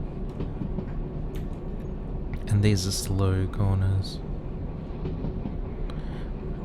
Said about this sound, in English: the momentum of the hill keeps wanting to push the train faster